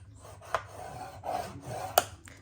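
Cardstock scored with a bone folder along a scoring board for a matchbook gift box: two or three short dry scraping strokes with a sharper tick near the end, close and fairly quiet, with no talking.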